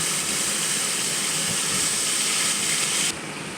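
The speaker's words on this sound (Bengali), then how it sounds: "পেঁয়াজটা আমি খুব ভালো করে ভেজে নেব" A steady, loud hiss of onion paste frying in hot oil runs continuously, then softens slightly near the end; no one speaks.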